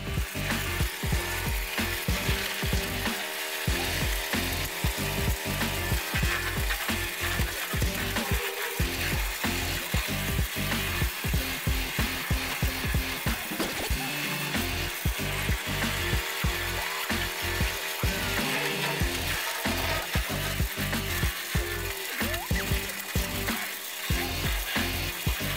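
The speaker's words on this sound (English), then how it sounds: "when it comes to pulling the tree in and chopping up the product, this chopping machine will process it itself" A large wood-chopping machine pulls in a tree and processes it, giving a dense mechanical din with rapid, irregular chopping and grinding bursts that continue without a break.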